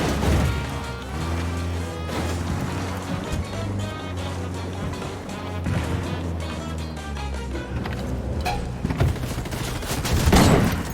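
Gunfire in Ghost Recon Wildlands, sharp shots and bursts mixed into a dense game soundtrack with a low sustained drone and tonal music, a heavier blast cluster near the end.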